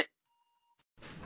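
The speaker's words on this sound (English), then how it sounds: "Who set off the alarm?" A device alarm going off gives a thin, steady electronic beep tone lasting about half a second, faint and isolated in a quiet room, followed by a brief click and then a burst of rustling noise.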